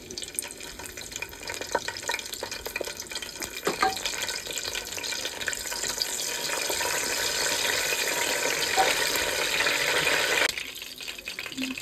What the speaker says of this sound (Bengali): তেল গরম হয়ে গেছে, এখন দিয়ে দিচ্ছি তেজপাতা আর এলাচ